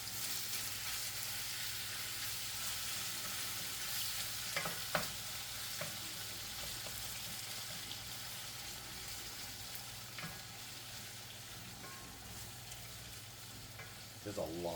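Chicken sizzles in a generous amount of fat in a large fryer pan, a steady, close crackling hiss with occasional stirring clicks and pops throughout and no talking.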